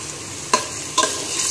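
Ginger and garlic hit hot oil in a tempering for sambhar, giving a steady close sizzle with two sharp bursts as pieces are added and stirred, with no voices.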